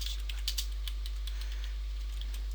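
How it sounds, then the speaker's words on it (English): Keyboard keys tapped on a PC while entering text in a word processor, a light scattered run of quiet clicks over a steady background hum. "Now let's type something in."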